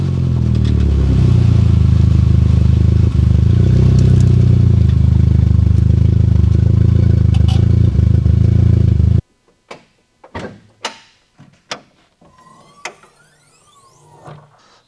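Audi S3 engine driven hard, a loud, close, sustained mechanical drone with rising and falling revs for several seconds, then a sudden cut to quieter clatter and scattered knocks.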